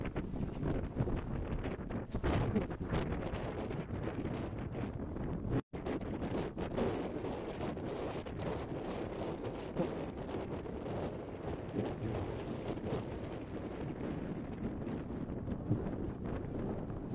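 Cold wind blows hard across the open shoreline of Sword Beach at Ouistreham, buffeting the microphone in a steady, roaring rush with gusty crackles and one sharp dropout.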